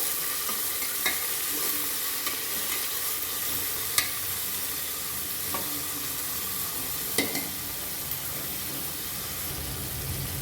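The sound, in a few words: onion and tomato frying in oil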